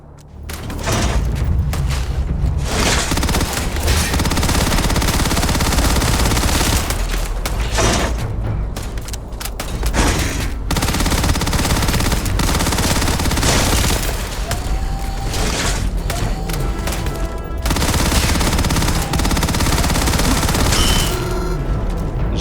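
Heavy, continuous gunfire in the sci-fi game Starfield, dense rapid shots and booms filling the whole stretch at high volume with only brief lulls, with no one talking over it.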